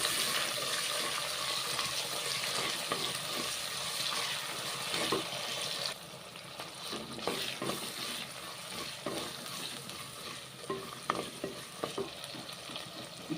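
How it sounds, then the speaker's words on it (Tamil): Crushed onion, green chili, garlic and ginger sautéing in hot oil for an oil brinjal kuzhambu: a steady, close sizzle with repeated scraping stir strokes throughout, with no talking. "இடித்து வச்சுருக்கல அந்த வெங்காயம், பச்சை மிளகாய், பூண்டு, இஞ்சி எல்லாம் போட்டு வதக்குவோங்க"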